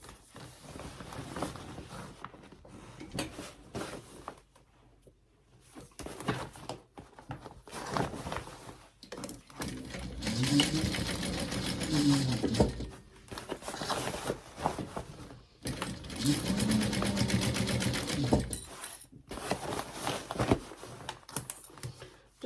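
A sewing machine top-stitches a fabric gift bag in two sustained runs of rapid, even stitching, separated by a quiet pause, with lighter handling noises between them.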